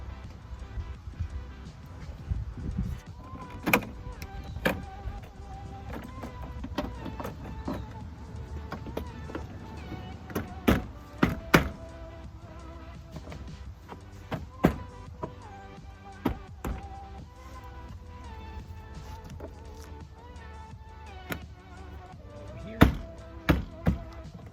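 Fitting a custom door panel onto a Pontiac Fiero door brings scattered sharp taps, knocks and plastic clunks at irregular intervals over a low background, with no talking.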